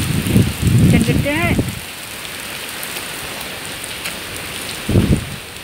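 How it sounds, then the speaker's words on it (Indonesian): Heavy rain pours down in Hong Kong in a dense, steady roar with strong wind, while a person talks over it at the start and again briefly later. "Gede banget hujannya."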